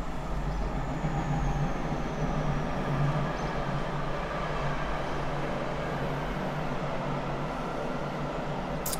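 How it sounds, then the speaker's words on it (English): A passing cargo train makes a steady, continuous rumble and rolling noise that holds at an even level throughout, moderately distant, with no talking. "That would be the cargo train for today."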